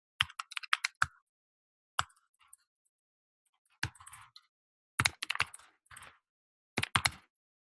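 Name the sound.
typing on a computer keyboard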